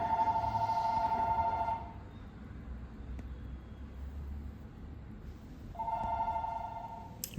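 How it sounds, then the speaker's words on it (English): A telephone rings in a quiet watch repair shop, two separate bursts of trilling electronic ringing with a pause between them, set against a low hum of room and road noise. "phone's ringing"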